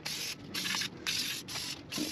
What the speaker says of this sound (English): Pre-spray some of this dirt off here.